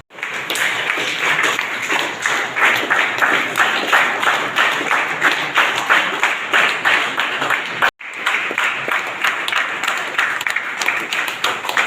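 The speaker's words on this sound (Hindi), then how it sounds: "तालियां बजाते रहे।" An audience claps at a diocesan leaders' training meeting and election, loud rhythmic clapping in unison close by, a brief break near the end before it resumes just as strongly.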